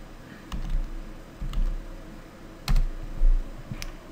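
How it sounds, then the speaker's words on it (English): Computer keyboard typing a Google search, a few short close clusters of key clicks with pauses between them, no talk. "type in what you're looking for"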